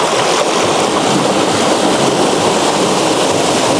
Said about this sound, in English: Hang on, big wave coming up.